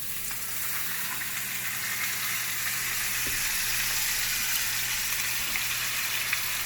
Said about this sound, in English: You'll hear the sizzle.